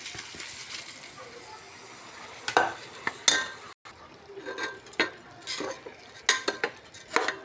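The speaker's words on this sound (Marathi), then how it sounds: "आपण याच्यात आता तांदूळ टाकू." Rice poured into a pot of peas with a pinch of turmeric and stirred for green pea pulao, giving scraping spoon strokes and clinks against metal in an irregular rhythm, close and moderately loud.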